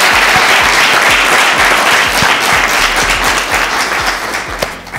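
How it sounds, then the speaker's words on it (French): A studio audience at a French talk show breaks into strong, steady applause, dense rapid clapping that holds at full volume and tapers slightly at the end, with no talking over it. "Applaudissements encore pour coach."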